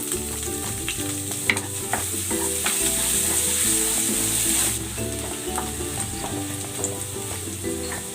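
Garlic sautéing in a pan for chicken adobo, a loud continuous sizzle with repeated spatula stirring and scraping that are close and unbroken, and no voices are heard.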